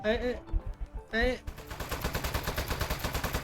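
Video game gunshots from Desk Job, fired with a controller trigger, come as a rapid, evenly spaced string of sharp cracks after a short burst of voice-like sound at the start.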